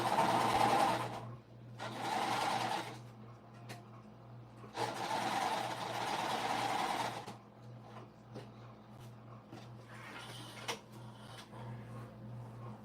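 A sewing machine feeds puffy puff-quilt pillowcase fabric in three steady runs, each lasting a second or two and separated by short pauses, close and clear with no talk.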